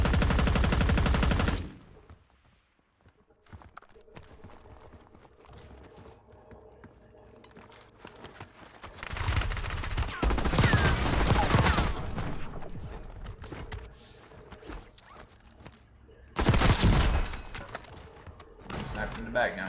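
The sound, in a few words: gunfire during a gunfight in video game Warzone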